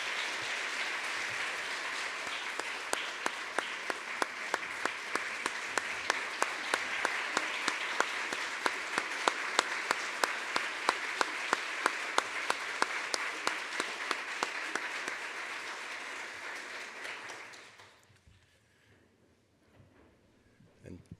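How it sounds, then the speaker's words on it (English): At a teacher hall of fame ceremony, a large audience gives sustained applause for the inductees, dense and even with a few sharp nearby claps standing out, before it tapers off into near silence. "Let's give them one more round of applause."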